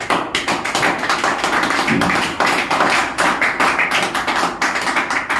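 A crowd gives loud, steady applause for an income figure at a business plan presentation, dense clapping sustained throughout with no pause.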